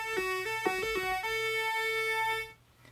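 A bright, buzzy overdriven Minimoog Model D tone with a gritty edge plays a few short stepped notes, then holds one steady pitch before cutting off abruptly.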